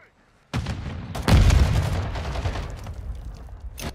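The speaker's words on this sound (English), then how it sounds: "Taking contact at Alpha. Contact! They're taking Alpha. Last minute. Grenade out!" Call of Duty Modern Warfare 2 match: sudden loud burst of gunfire opens the clip, followed by a heavy grenade explosion boom, then continuous rattling fire and a final sharp shot near the end.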